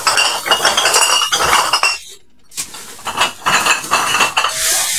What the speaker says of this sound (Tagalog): Sasakuin natin yung mga bote pa na natira.